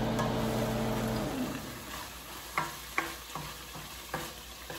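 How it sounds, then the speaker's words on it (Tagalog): Ground meat sautéing in a pan, a steady sizzle with a few sharp scraping stirs of a utensil toward the end; a low hum sits under the first part. "Gigisa na tayo."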